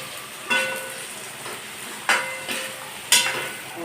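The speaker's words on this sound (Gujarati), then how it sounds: "પછી એકદમ મસ્ત રીતે હલાવી દેવાનું." Chili powder is stirred into a potato mixture for bataka bhungla. Three or four distinct spoon scrapes sound at spaced intervals over a faint background hiss.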